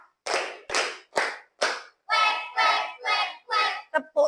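A class of students claps together in time, with about seven or eight sharp, evenly spaced claps followed by a quick double clap at the end, close and clear with no talking.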